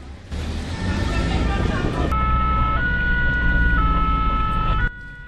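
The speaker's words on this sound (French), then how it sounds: "Aussitôt, une ambulance est dépêchée sur les lieux." An ambulance siren wails close by on a city street at night during a fire brigade emergency call, a loud sustained tone over engine rumble, shifting pitch partway through.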